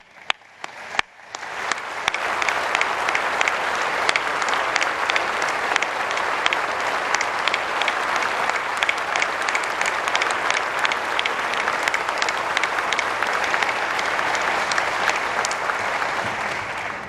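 A museum audience at the Smithsonian National Museum of African American History and Culture gives the Advisory Council a long burst of applause, dense clapping that swells quickly after a few scattered claps and holds loudly for the full stretch.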